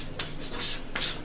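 Marker or chalk strokes on a board while a Class 10 maths solution is worked out, three short scratchy bursts spaced apart over a steady room hum, with no voice.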